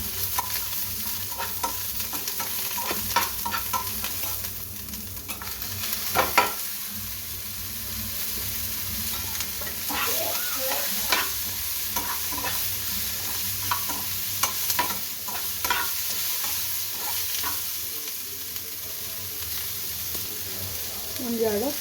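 Tomato and garlic fry in a pan for chicken sukka, with a continuous hissing sizzle and intermittent stirring scrapes and clinks, close and steady.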